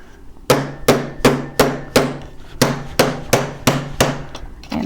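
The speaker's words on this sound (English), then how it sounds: "I take a soft blow hammer, and it can be your plastic, your rawhide, wood" A soft-blow hammer of plastic, rawhide or wood taps down folded metal sheet in about a dozen sharp, evenly spaced blows, close and loud with no talking.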